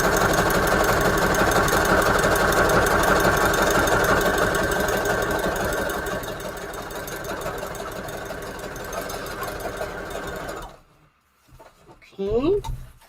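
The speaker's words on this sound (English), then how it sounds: "let's sew it down here. I'm going to sew it a couple times in a couple of places." A sewing machine stitches a fabric junk journal cover in a steady, loud mechanical whir lasting about ten seconds. It slows and stops, then a few brief handling noises follow.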